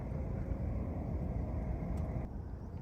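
Traffic on the A27 road, about two miles away, makes a constant low hum across the water of Thorny Channel, steady and faint with no distinct vehicles standing out.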